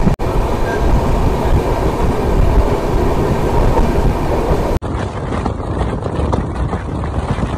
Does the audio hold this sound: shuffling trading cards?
no